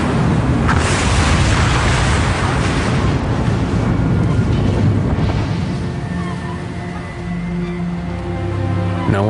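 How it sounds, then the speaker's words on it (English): A dramatized airliner crash near Peggy's Cove sounds as a loud, deep explosion that rolls into a heavy rumble, then thins into a lower, lingering drone. "residents of Peggy's Cove hear a deafening explosion."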